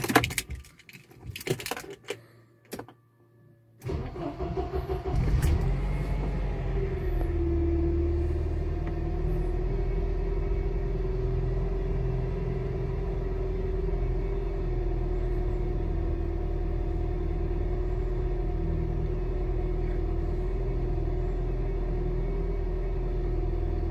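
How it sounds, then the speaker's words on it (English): A cold Mercedes engine with KE-Jetronic fuel injection idles at raised revs around 1200 rpm, a steady, even hum and rumble running continuously after a few brief clicks and knocks at the start. "the ECU holds high revs for 28 seconds, approximately 1200, when the engine is totally cold."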